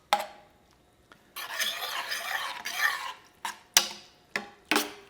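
Sausage being stirred into a pot of ragù sauce, a spoon scraping and sloshing through the thick mixture in several rough bursts, with sharp knocks against the pot near the end.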